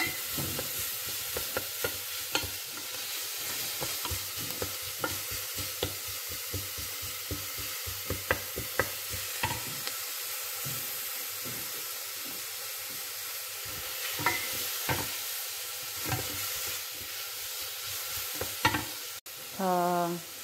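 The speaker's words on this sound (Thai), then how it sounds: "เนยใส่ร้อนแล้วก็ผัดต้องกระเทียมให้สุกหอมนิดนึง" Garlic stir-fries in hot melted butter in a pot as the base for a champignon mushroom soup, with a steady low sizzle and repeated scraping stirs of a utensil close up, ending in a brief knock.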